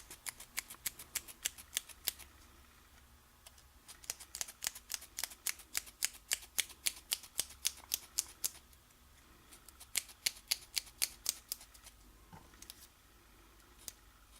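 Quiet, close scissors snipping through paper in rapid runs of crisp clicks, pausing briefly between bursts.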